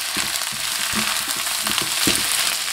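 Napa cabbage stems stir-fried with rendered pork belly in a wok: a loud, dense, continuous sizzle close up, broken by several quick scraping tosses of the spatula.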